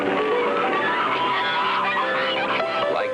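Wild waterfowl calling in a dense, continuous flock chorus, overlapping honks and quacks sustained loudly throughout with no pauses.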